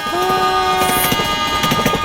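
A non-stop passenger train rumbles past close by with a loud, sustained tonal whine and rhythmic clatter throughout.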